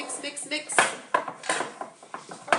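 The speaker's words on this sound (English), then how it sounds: "add your cheese, and now I want you to mix" Cheese gets mixed into cake batter in a bowl, with close, irregular clinks and scrapes of a utensil against the dish, several sharp knocks standing out among softer stirring sounds.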